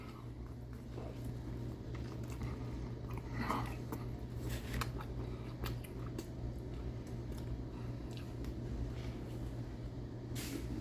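Someone eats whole wheat bread with barbecue chicken, quiet close chewing and bites over a steady low room hum, with a few faint mouth clicks and no talk.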